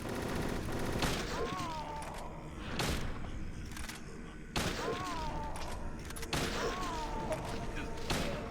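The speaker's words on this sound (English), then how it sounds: "I think she comes back with an Uzi now. Submachine gun." Bursts of Uzi submachine gun fire in Silent Hill 3, several loud rapid volleys separated by short pauses, mixed with game effects and background sound.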